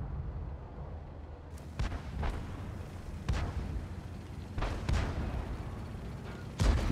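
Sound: tank gun firing in the video game World of Tanks

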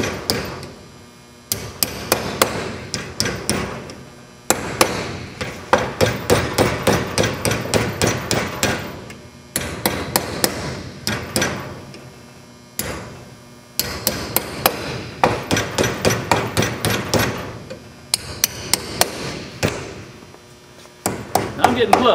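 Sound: hammering sheet metal into divots to form curved ribs

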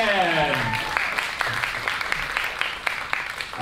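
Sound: crowd cheering and applauding at a horror makeup show

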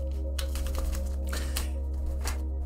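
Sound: tarot cards being shuffled

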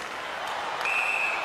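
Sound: hockey crowd reacting angrily to penalty against home team

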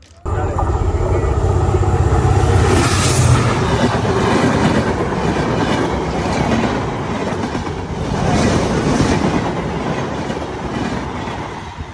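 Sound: train approaching on railway track

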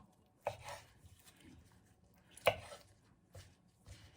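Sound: chopping pork tendon with a knife

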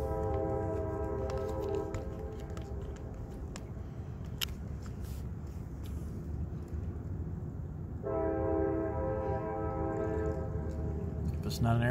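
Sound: train passing by with horn

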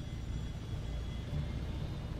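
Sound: helicopter flying overhead

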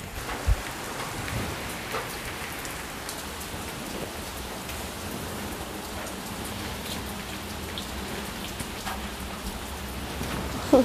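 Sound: drizzling rain

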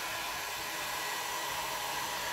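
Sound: hair dryer drying a watercolor painting

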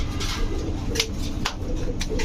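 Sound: pigeons cooing at a pigeon market

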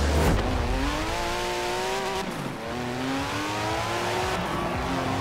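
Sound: car racing off-road in video game Forza Horizon 4

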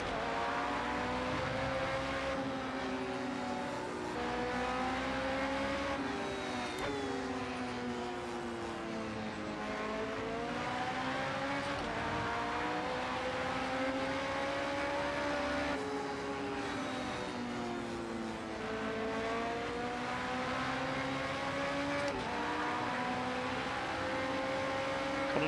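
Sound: Porsche 919 Hybrid race car engine at Le Mans, Project Cars 2 video game

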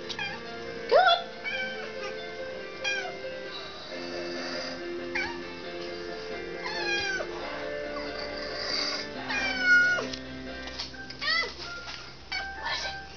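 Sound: cat making weird noise at a moth

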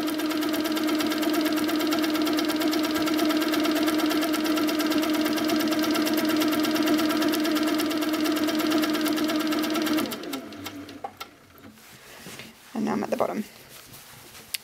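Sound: HQ Sweet Sixteen quilting machine running at speed

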